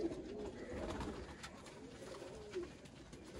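Pigeons coo softly and repeatedly at close range, low throaty calls rising and falling against faint background noise.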